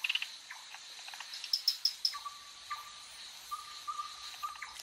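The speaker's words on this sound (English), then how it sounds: "A night owl, various tree frogs." Night chorus in a wild forest: steady insect and tree frog calling fills the background, with a few brief higher chirps and a sustained tonal call running through the second half, all at moderate distance with no talk.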